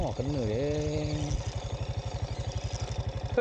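A motorcycle engine runs with a steady, throbbing pulse close by, an idling-type rhythm that continues after a voice speaks at the start.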